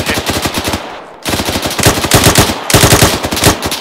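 Rapid automatic gunfire in the military shooter game Arma 3 during a firefight: loud, close bursts of rattling shots in quick succession, with a brief pause between bursts.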